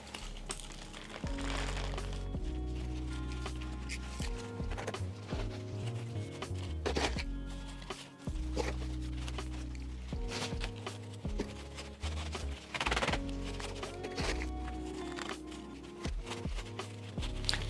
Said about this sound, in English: That's just the soil squishing